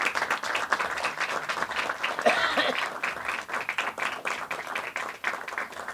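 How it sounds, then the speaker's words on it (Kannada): An audience at a Kannada film trailer launch event applauds to welcome Shweta Gupta, a full, steady round of clapping from a crowd that holds evenly throughout with faint murmurs beneath. "ಅವರನ್ನು ಕೂಡ ಚಪ್ಪಾಳೆಯೊಂದಿಗೆ ಸ್ವಾಗತಿಸಬೇಕು ಅಂತ ಹೇಳ್ತಾರೆ."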